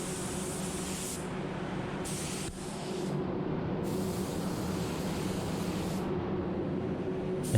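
A spray gun set to full fluid and full fan at 29 psi paints a new car wing and front bumper, a close, continuous hissing air spray that pulses slightly as the trigger passes vary.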